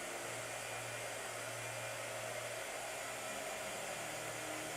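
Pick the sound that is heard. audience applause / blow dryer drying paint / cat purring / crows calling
blow dryer drying paint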